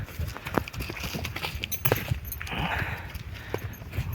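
Horse hooves walking on hard ground, a steady irregular clip-clop of steps close by with light outdoor background noise.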